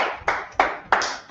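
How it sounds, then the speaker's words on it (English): Three short bursts of clapping from a group at a community gathering, each sharp onset fading quickly, spaced about a third of a second apart, close and fairly loud. "All right, clap it up"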